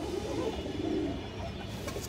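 A large black-necked Kaldom pigeon, a Bangladeshi fancy breed, coos softly and steadily, a low continuous murmur close by with no talking.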